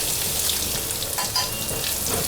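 Dried red chillies and turmeric powder sizzle in hot oil with crushed garlic in a pan, a steady close frying hiss with a few brief stirring scrapes, no talking.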